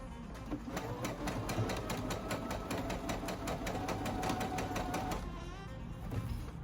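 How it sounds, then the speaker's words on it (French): A Brother Innovis 15 sewing machine runs a zigzag stitch, its needle clattering in a fast, steady mechanical rhythm with a motor hum underneath, close and continuous with no talking. "Je passe un point zigzag qui correspond au point 4 sur la machine Innovis 15."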